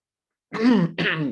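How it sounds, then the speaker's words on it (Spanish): Someone clears their throat twice, close up: a rough, voiced rasp followed by a second short hack, alone in silence. "me daba un poquito de tos"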